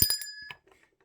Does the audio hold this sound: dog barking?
no